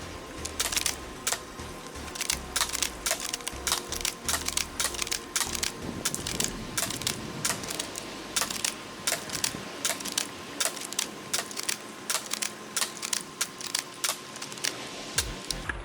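ASG McMillan M40A3 airsoft sniper rifle fired repeatedly until the magazine is empty, sharp close clicks and snaps in an irregular rapid rhythm with mechanical rattles between shots, no talking.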